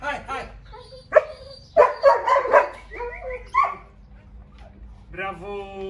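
A puppy gives several sharp, high yips and barks in quick bursts, close and loud, with someone speaking encouragingly between them.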